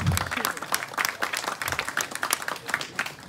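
At a Balinese bondres comedy show, scattered audience clapping and crowd noise come in uneven bursts, mixed with lively talk and voices throughout.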